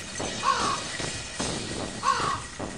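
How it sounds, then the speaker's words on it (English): Birds in the video game Thirty Flights of Loving give two bursts of harsh cawing, roughly a second and a half apart, over a busy, noisy game soundscape. "Oh, it's the fucking birds from Gravity Bone"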